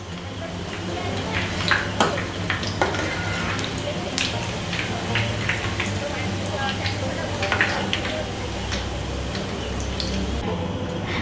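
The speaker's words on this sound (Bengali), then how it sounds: "বাকি যা চপগুলো আছে সেইগুলোকেও আমি কড়াইয়ের মধ্যে দিয়ে দিচ্ছি" Egg and red lentil chops fry in hot oil in a wok, giving a steady close sizzle with scattered sharp pops and crackles and occasional clinks of a utensil against the pan.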